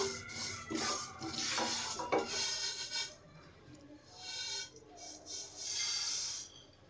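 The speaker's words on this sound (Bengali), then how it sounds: "এবার 2 চামচ মেথি, 2 চামচ মৌরি, 1 চামচ সাদা জিরে ও 1 চামচ ধনে দিয়ে টেলে নেব প্রায় 15 থেকে 20 সেকেন্ড মতো" Fenugreek, fennel, cumin and coriander seeds are dry roasted in a pan for pickle masala, with a close scraping and rattling of stirring against metal that comes in uneven bursts and pauses.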